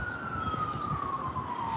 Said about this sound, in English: What is with the sirens today?